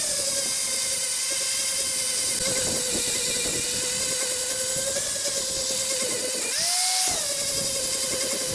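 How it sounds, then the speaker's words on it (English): Angle grinder grinding metal on a homemade bale unroller, a loud, close, high steady whine held for several seconds, dipping and rising briefly near the end. "I'm probably just gonna have to get the grinder out and grind it."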